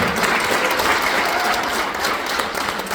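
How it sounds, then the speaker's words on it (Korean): Dense, steady applause from an audience at a political lecture in Korea, loud and continuous throughout with no talking over it. "박수 한번 주세요."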